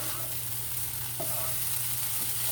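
Hash browns seasoned with garlic powder and chives sizzle steadily in a pan over medium heat, a constant loud frying hiss with a couple of brief scrapes as they are stirred.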